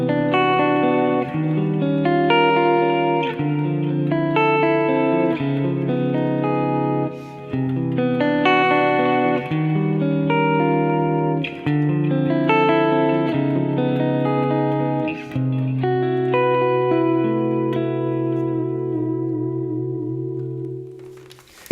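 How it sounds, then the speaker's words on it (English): Electric guitar through a normal delay effect, with repeats piling up so low-register notes ring over one another into a muddy wash; a continuous sequence of close, moderately loud chords and arpeggios, no talking. "it gets a little muddy because the notes ring on top of each other"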